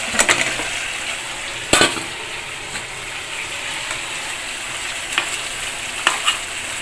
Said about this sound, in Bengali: এখন আমি চিকেনগুলা দিয়ে দেবো।